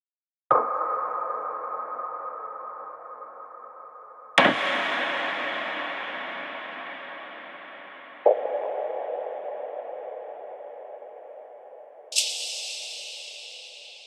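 Four separate percussive hits, evenly spaced a few seconds apart, each ringing out in a long reverberant tail that slowly fades before the next.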